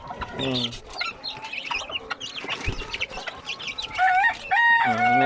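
Chickens cluck and squawk close by, with high peeping chicks mixed in and a rooster-like call rising toward the end, with ducks among them.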